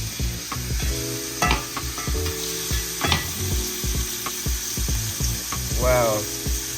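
A 2.5 steak from Whole Foods sizzles loudly in a hot pan, flipped with scraping utensil clatter and bursts of crackling fat over a steady frying hiss, while people talk nearby.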